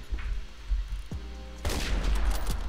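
Remington 700 sniper rifle shots in the video game Phantom Forces, with a couple of sharp cracks over a steady low game rumble, the loudest report arriving about halfway through and followed by noisy echoing fire.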